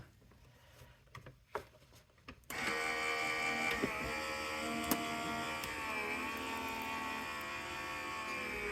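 Die-cutting machine pulling an embossing folder and platform through for an ocean-themed card background, a few handling clicks and then a steady loud mechanical whirring hum that runs on for several seconds.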